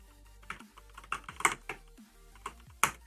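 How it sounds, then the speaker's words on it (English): Someone types on a computer keyboard during an EverQuest raid, producing a run of irregular, close clicky keystrokes over a low steady hum, with no voices. "Now we can hear Milo typing"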